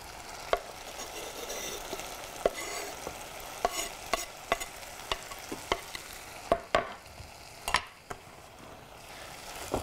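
Chilies sizzle in a pan over medium heat, a steady frying hiss broken by repeated sharp scrapes and taps of a utensil stirring them, with no voices.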